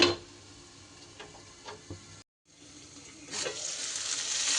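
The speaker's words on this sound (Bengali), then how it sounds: "এইবার এটাকে ঢেকে গ্যাসটা আমি কমিয়ে দেব যাতে পটলটা সিদ্ধও হয়ে যায় আর বেশ ভালো করে ভাজা ভাজাও হয়ে যায়।" Pointed gourd (potol) frying under a lid in a pan on a low gas flame gives a soft, steady sizzle with a few small ticks, briefly cutting out before the hiss returns and swells slightly.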